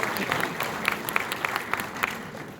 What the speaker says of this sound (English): Applaud yourself, please